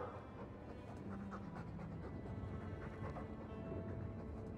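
A Mabari war dog pants steadily in Dragon Age II, quick soft breaths repeating close by over a low ambient bed.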